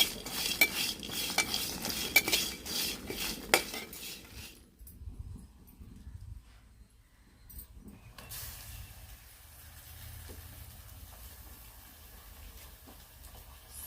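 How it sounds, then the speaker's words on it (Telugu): Chicken is stirred as it fries in a pan. A ladle clatters and scrapes against the metal for a few seconds, followed by a quieter stretch of low, soft sizzling. "బాగా ఫ్రై చేసేసుకుందాం మాడకుండా లైట్గా ఫ్రై చేద్దాం"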